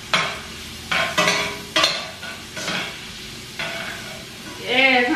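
Garlic stirred into sauce juices in a pan gives repeated scraping stirs over a steady sizzle, with a few brief louder strokes and a faint voice near the end.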